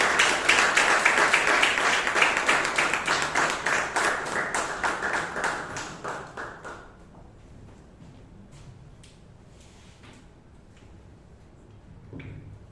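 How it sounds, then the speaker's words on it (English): Applause for a Toastmaster at a Bangalore Toastmasters club meeting, a dense round of clapping that thins over several seconds into scattered claps, then fades into quiet room tone. "Please give a huge round of applause for Toastmaster Anirudh."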